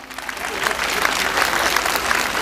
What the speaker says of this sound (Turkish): Emeği burada bütün emekçi dostlara kocaman alkış istiyorum